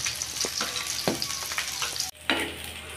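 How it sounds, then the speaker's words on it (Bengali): Eggplant pieces fry in a pan, giving a steady, soft, close sizzle broken by a few brief scraping clatters as they are turned. "আমি বেগুনগুলো উল্টিয়ে পাল্টিয়ে পোড়া পোড়া করে ভেজে নিয়েছি।"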